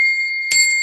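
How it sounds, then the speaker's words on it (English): A single bell rings out clearly, its sustained tones sounding from the start and swelling with a brighter struck burst about halfway through, with no voices. "The bell."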